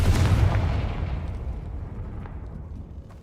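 A Confringo spell blast in a spell-casting video game: a loud booming explosion at the start that rumbles and slowly fades over about three seconds, with no speech.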